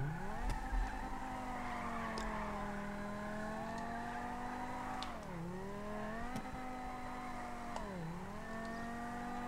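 A car engine in GTA Online revs continuously, its pitch rising and dipping with gear changes and throttle. The sound stays loud and close throughout, with no talking over it.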